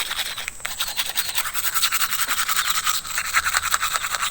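A toothbrush scrubs teeth in a steady, rapid back-and-forth rhythm, close and continuous throughout with no talking.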